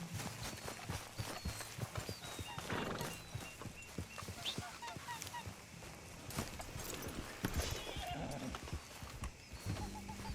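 Horse hooves clip-clop in a steady rhythm over a busy backdrop of ambient noise, with occasional bird-like honks and faint voices, in the video game Red Dead Redemption 2.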